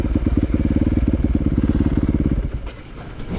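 A dirt bike's engine revving hard as it rides a trail, a loud, close, rapidly pulsing buzz that eases off near the end.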